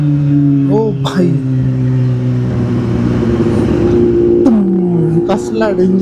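Kawasaki Z800 motorcycle engine revving close by, a steady loud idle with sharp throttle blips rising and falling near the start and again near the end, a voice speaking over it.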